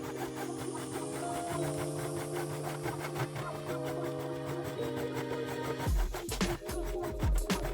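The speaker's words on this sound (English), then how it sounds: "Overlock the edge that you've just sewn." An overlocker runs steadily along the edge of denim jeans, a sustained mechanical whir with rapid stitching rhythm, close and alone, ending with a few clunks as it stops.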